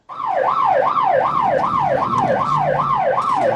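A police car siren wails loud and close in a steady rising-and-falling cycle, repeating about every half second and continuing without pause, with a faint engine hum beneath it.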